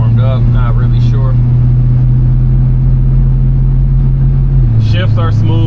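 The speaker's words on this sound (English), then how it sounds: "let's go ahead and give her a little bit of throttle" A 1969 Buick Electra engine, a normal three-speed automatic, runs loud and steady with a deep, even drone that drops slightly near the end, while someone talks over it.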